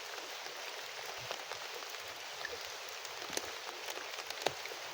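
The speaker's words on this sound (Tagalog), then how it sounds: "Malakas talaga yung ulan, no?" Heavy rain hisses in a steady, dense wash, with occasional sharper drops ticking on a nearby surface.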